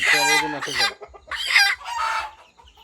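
Desi chickens on a farm cluck and squawk loudly at close range in a few quick bursts, with a rooster crowing among them.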